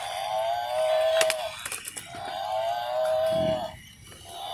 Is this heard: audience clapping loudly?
no